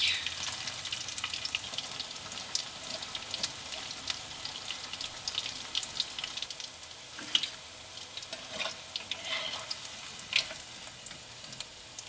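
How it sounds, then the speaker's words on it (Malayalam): Steady, dense crackling sizzle of cauliflower deep frying in hot oil, continuous throughout with occasional louder pops and bubbling bursts. "നമുക്കിത് നല്ല ചൂടായ എണ്ണയിൽ ഇട്ടിട്ട് ഫ്രൈ ചെയ്തെടുക്കാം"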